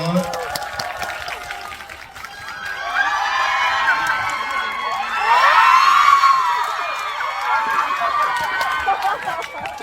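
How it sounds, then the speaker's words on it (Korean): Audience at a cinema stage greeting in Yeongdeungpo cheers, whoops and claps loudly and steadily for the whole stretch, swelling into a louder burst of shrill cheering midway. "축하 박수 한번 부탁드리겠습니다."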